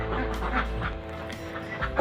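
Laying ducks on a farm quack in a noisy chorus, several overlapping calls over a steady low hum and a constant tone, moderately loud and close.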